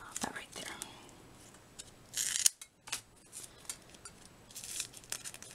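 Scissors snip through paper during a card-making craft, a quick cluster of crisp cuts near the middle followed by lighter snips and paper handling, with soft breathy sounds around them.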